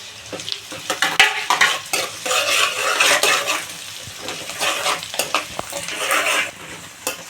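Onions and green chillies sizzle in a hot pan while a spatula stirs and scrapes against the metal, producing steady frying hiss broken by irregular clanks and scrapes, close and fairly loud, with no talking.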